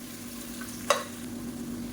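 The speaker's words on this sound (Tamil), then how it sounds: "இப்போ வெங்காயம் வதங்கிட்டு இருக்கையிலே" Onions sauté in hot oil for a seeraga samba mutton biryani, giving a steady, even sizzle with a single sharp clink of a utensil against the pan partway through.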